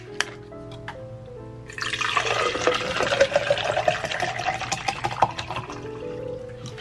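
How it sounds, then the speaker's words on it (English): Water poured into a glass at home, starting with a few small knocks and then a steady splashing stream for several seconds with rising pitch as the glass fills, close up. "pour me some water because I ran out of water today"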